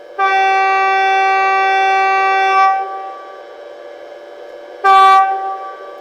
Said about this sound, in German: Makrofon tief